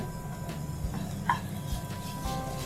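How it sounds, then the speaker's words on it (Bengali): Quiet stirring of mashed potato with dried chillies and coriander in a pan, soft scraping and light taps of a utensil over a low background hiss. "এই দুটো উপাদান দিয়ে এবার আমি ফাইনালি খুব ভালোভাবে মিক্সড করে নিচ্ছি।"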